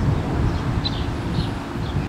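Gusting wind blows steadily around a small Vevor FT500 wind generator outdoors, a continuous low rushing roar with brief swells, loud and close to the microphone.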